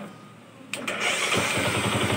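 A Kawasaki Rouser 135 motorcycle engine with a CDI problem cranks briefly, catches, and settles into a loud, steady idle close by after a short quiet moment.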